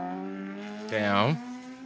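A racing motorcycle on the Isle of Man TT course sweeps past in about half a second, its steady engine note rising sharply and then dropping in pitch as it goes by, heard faintly over a sustained tone.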